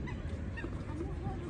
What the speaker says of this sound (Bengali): এখানে পাখি আছে, হাঁস